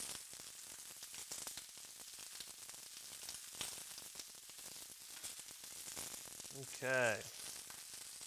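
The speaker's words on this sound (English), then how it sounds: "I'm doing about 3 or 4 garlic cloves here. We're going to add in. Get those sauteing." Three or four garlic cloves sauteing in a pan for a kale salad give a steady, soft sizzle throughout, with a brief spoken word near the end.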